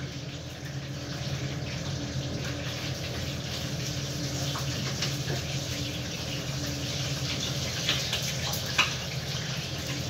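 Water runs steadily from a tap in a continuous, even gush at moderate loudness, with no speech.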